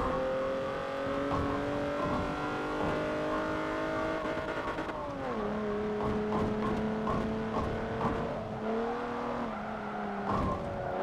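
A Cadillac limousine engine in the racing game Forza 7 drones steadily with clear harmonic tones, pitch holding, then dropping and shifting mid-run as if changing gears, loud and continuous with no talk.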